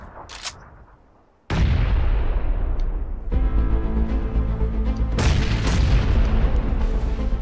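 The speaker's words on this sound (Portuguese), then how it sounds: "Cara jogando granada" A grenade blast in PUBG: a sudden loud boom drops into a long rumbling tail, followed by another heavy detonation and more crackling echoes, close and powerful.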